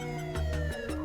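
An ambulance siren wails while the crew responds with lights and sirens to a domestic dispute call, a loud, close, steady alternating tone filling the brief moment with no talk.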